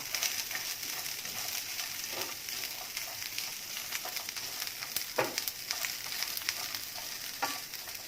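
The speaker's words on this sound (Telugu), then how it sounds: "ఇప్పుడు క్యాబేజీ కూడా ఫ్రై చేసుకుందాం కొంచెం" Cabbage sizzles and crackles steadily in a hot pan, with occasional louder pops and stirring scrapes, fairly quiet and without talking.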